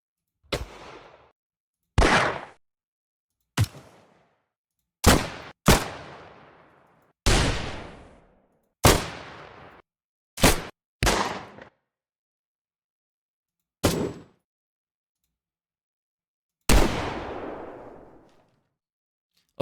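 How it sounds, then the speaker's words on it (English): Eleven separate Glock pistol shots, used as a Roblox game sound effect, crack loudly at irregular intervals, each a sharp bang with a short ringing tail, with silence between them. "Now just do the pistol, so I'll search up something like Glock shoot."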